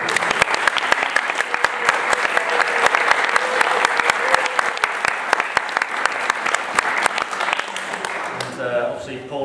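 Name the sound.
wedding guests applauding during a speech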